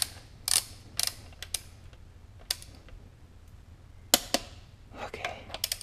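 While engine bolts are tightened during an engine swap on a BRZ, FR-S or 86, a torque wrench gives several sharp mechanical clicks and ratcheting snaps in uneven bursts over a low steady hum.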